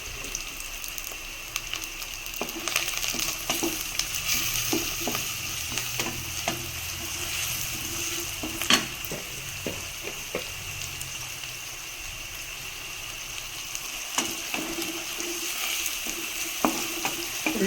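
Onions frying in hot oil in a pan with ginger-garlic paste and curry leaves added, for a chickpea (kadala) curry; a steady sizzle runs throughout, broken by scattered clicks and scrapes of stirring, with no talk.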